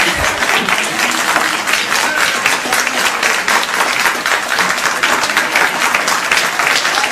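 Loud, continuous clapping from a big crowd, a thick wash of hand claps that stays steady throughout without any talking.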